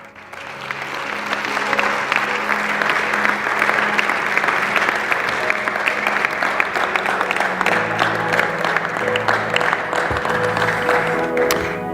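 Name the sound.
congregation applause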